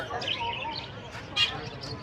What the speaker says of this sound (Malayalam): ഫുള്ള് ഇവിടെ കിളിക്കച്ചവടമാണ് ഗൈസ് നല്ല കിളികൾ കാണാൻ പറ്റും